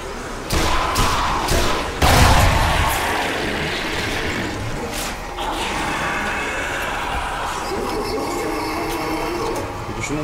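A grenade goes off in Zombie Army Trilogy as a couple of heavy, close thumps early on, the biggest near the two-second mark, then a dense rumble of game noise continues.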